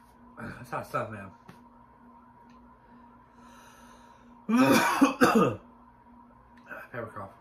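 A person coughs and clears their throat in harsh bursts after eating hot pepper, with a loud hacking fit midway, close to the microphone.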